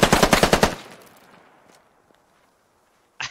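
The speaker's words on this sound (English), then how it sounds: "I'm gonna fire a mag" A burst of full-auto rifle fire in the video game Squad, a rapid string of about eight loud close shots lasting under a second, then a fading echoing tail, near silence and a short sharp sound at the end.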